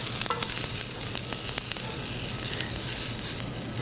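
Peppers fry in a blistering hot cast iron pan for fried rice, a dense steady sizzle with crackling pops and stirring, close and continuous without speech.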